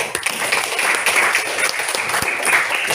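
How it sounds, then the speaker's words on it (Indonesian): Schoolchildren in a classroom applaud a classmate, a close, fairly loud patter of many small hands with a few sharper individual claps standing out. "tepuk tangan untuk Syamil."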